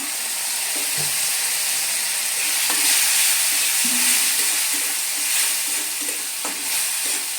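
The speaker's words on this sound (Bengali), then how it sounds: "ভালোভাবে এটা আমি মিশিয়ে কষিয়ে নিচ্ছি" Spices and jackfruit stirred and fried in a pan for echor kalia, a steady sizzle under scattered scraping stirs from a spoon, continuous and fairly close with no talk.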